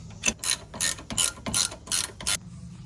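Ratchet tightening new 17 mm caliper bracket bolts on a G35 sedan during a handbrake install: a quick series of about eight sharp clicking strokes, close and crisp, with no talk.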